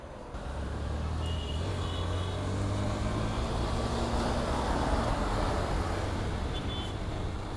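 A Yamaha FZ Version 2 motorcycle engine idles close by, a steady low drone holding level throughout with no other sounds.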